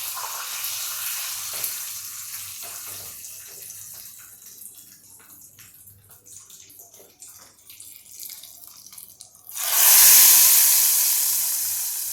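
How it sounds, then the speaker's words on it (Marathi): Red chillies and curry leaves hit hot oil as a tempering for sambar, a sudden loud hissing sizzle that bursts out after a quiet stretch of faint kitchen noise and then slowly fades. "सांबारला फोडणी दिली आहे"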